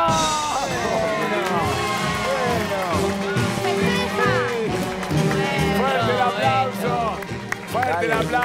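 A game-show studio audience cheers and applauds loudly for the grandparents' team after a win, with sustained clapping beneath excited shouting voices and music throughout.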